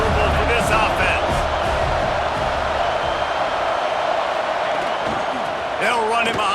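A loud, hostile stadium crowd roars steadily throughout a Nebraska college football game, with an announcer talking over the din and a burst of shouts near the end.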